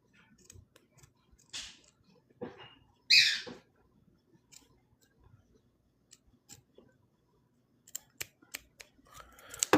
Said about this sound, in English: Maybe time to get some new scissors.